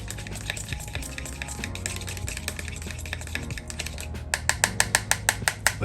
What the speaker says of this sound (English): Mix that all in together.